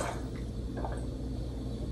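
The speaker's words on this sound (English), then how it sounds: "So we poured our peroxide in the bottle." Hydrogen peroxide is poured through a funnel into an empty bottle, giving soft glugging, squishy liquid sounds and a few light drips over a low background rumble.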